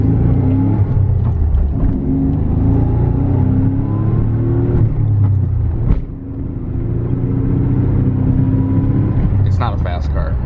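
A 1988 Nissan 300ZX Turbo (Z31) being double clutched while driving, its engine droning loudly in the cabin with rising and falling revs and a brief blip mid-shift, a voice talking over it.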